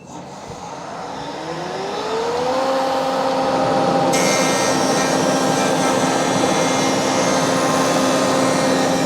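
A Shopsmith jointer cutting wood: the motor winds up with a rising whine, then settles into a steady, loud drone with a broad rushing cutting noise running to the end.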